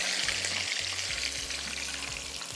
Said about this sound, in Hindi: ऑयल चेक कर लेते हैं और इस चरगे को करेंगे फ्राई